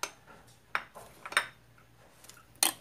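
A pot of pig face paksiw with soy sauce and garlic gets stirred, giving a few scattered metallic clinks and scrapes of a utensil against the pot, quiet and intermittent with faint background hum.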